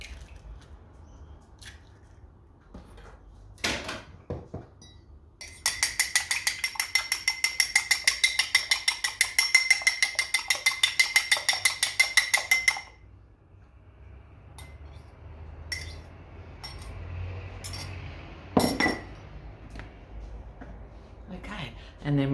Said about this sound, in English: I'm just going to beat the egg.